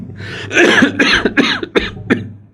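A series of harsh coughs, one close voice hacking about five times in quick irregular bursts with short gaps between them.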